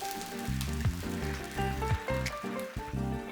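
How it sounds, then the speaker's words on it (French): Water hits a hot pan where rice noodles have been caramelising for Lao-style stir-fried noodles, setting off a loud, steady sizzle with bursts of spattering and bubbling that swell and settle in waves. "Ajoutez 10 centilitres d'eau, attention aux projections"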